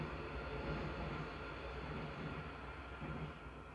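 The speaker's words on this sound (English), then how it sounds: "I'll just let that train go past." A train rolls past close by as a steady, loud broadband rumble and rush that fills the whole moment without letting up.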